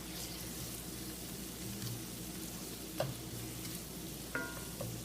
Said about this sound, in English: once you have the onions in the pan dispersed fairly evenly along the bottom of the pan, don't over stir them.